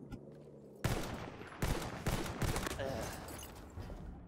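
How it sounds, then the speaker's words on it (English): Battlefield 1 gameplay gunfire: a loud automatic burst starts abruptly, followed by several more rapid volleys close by, with faint game ambience underneath. "I shot a guy"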